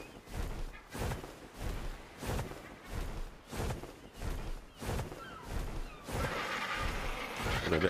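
A modded horse in the game ARK makes rhythmic, repeated bursts of sound about once a second, giving way to a sustained noisy rush near the end.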